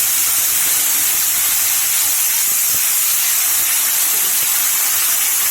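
Ground spice paste hits hot oil already holding fried dry chilies, radhuni and five-spice seasoning, unleashing a loud, dense, continuous hiss of sizzling that holds steady close up, with no talk.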